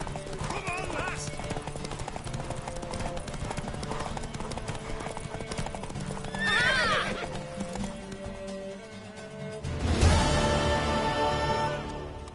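A horse in the video game Witcher 3 gallops with steady, rhythmic clip-clopping hooves, breaking into a loud whinny near the middle and again toward the end, while voices talk over the action.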